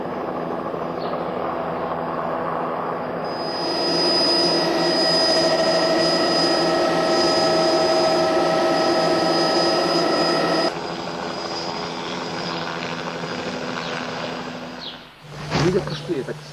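A helicopter's engine and rotor give a loud, continuous roar with a sustained high whine while passengers board and the aircraft flies, ending in a few heavier thumps.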